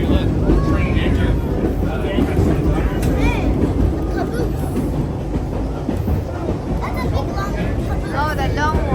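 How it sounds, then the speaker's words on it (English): Loud rumbling rail noise as a vintage train at the Western Railway Museum in Solano County rolls past another train, steady clatter and roar throughout with people talking over it. "we're passing another train."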